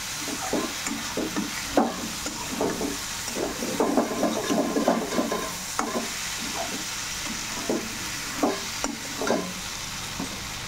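Taro stolons and dried churi fish sautéed in a pan, with a steady sizzle and repeated scraping strokes of a spatula, close and alone.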